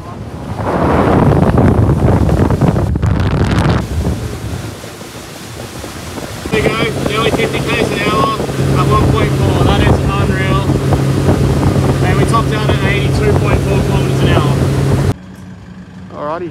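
Bonito 660 centre console boat with twin 130 outboards on its first water trial, with loud wind buffeting and rushing water, then a steady engine drone under the wind that cuts off abruptly near the end.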